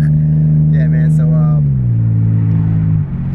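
A tuned Infiniti G37S engine holds a steady, loud rev, then the pitch sags partway through and settles lower. No distinct exhaust pops stand out.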